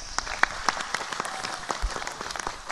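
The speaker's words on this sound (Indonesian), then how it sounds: "Tepuk tangan untuk Pak Bupati" A crowd claps in a short, scattered round of applause, with individual claps popping out of the steady patter.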